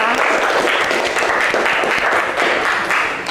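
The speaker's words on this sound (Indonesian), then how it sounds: "Kita beri tepuk tangan kepada kelompok 2" Students in a classroom applaud group 2 after their presentation, a loud, sustained burst of many hands clapping that holds evenly for a few seconds before easing slightly.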